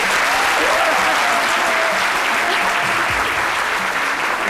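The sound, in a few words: studio audience applause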